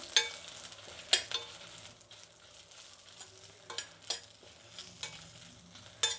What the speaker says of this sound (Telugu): దీన్ని కొంచెం బాగా వేయించుకుందాము. కొద్దిగా ఆయిల్ వేద్దాం.